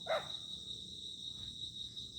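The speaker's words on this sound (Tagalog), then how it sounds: "Ayun yung aso doon" A single short dog bark rings out at a distance over steady, high-pitched cricket chirping in a quiet nighttime setting.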